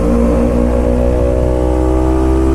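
A Kawasaki Ninja 250 motorcycle engine drones loud and close after being dropped into too low a gear, a strong steady mechanical hum that holds throughout.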